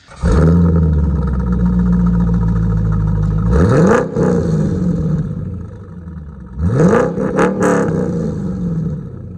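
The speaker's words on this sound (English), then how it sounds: "Can you start it and give him some revs?" A C5 Corvette engine cold-starts with a deep rumble, then revs sharply twice, each rise climbing and falling back to idle; loud and close, no talking.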